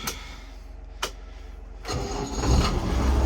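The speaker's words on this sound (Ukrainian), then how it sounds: "Замоторюємо." Farm tractor engine starting for corn sowing in Poltava region, a steady idling rumble that cranks and catches into a louder, fuller running roar, close and continuous.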